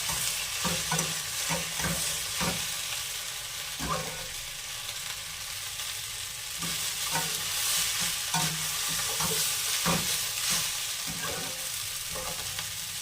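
Boiled pasta tossed and stirred in a hot pan: rhythmic scraping and knocking of a spatula over a steady background sizzle, close and fairly loud for the whole stretch.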